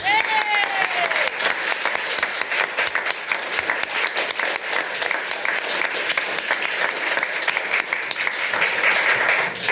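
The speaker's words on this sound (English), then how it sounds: "So we can clap now?" Dense, sustained applause from an audience at a city meeting, loud and continuous for nearly ten seconds, with a brief whistle-like tone at the very start.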